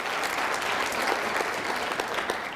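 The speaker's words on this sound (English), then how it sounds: "give Ron a big round of applause for caring about you enough" Audience applause at an orthodontist study group talk, a steady dense wash of many hands clapping that carries evenly through the whole stretch with no voices over it.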